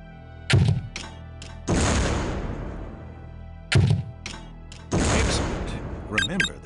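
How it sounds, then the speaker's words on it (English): Two grenade launcher shots in Soldier of Fortune II: Double Helix, each a hollow thunk followed by a booming blast with a long, rumbling tail, spaced about three seconds apart. "Now, destroy the target with a grenade."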